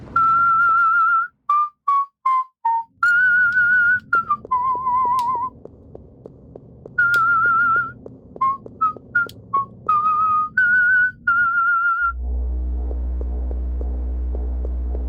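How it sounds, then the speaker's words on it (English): Loud, close whistling straight into a microphone, a run of short bright phrases with slides and held notes, pulsing low thumps underneath, then a low hum at the end. "I don't normally whistle that loud."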